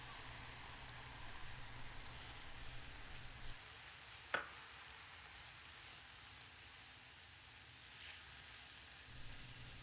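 An egg fries in a pan for stir-fry ramen, giving a quiet, continuous hiss and sizzle with one brief sharp tap partway through, and no voices.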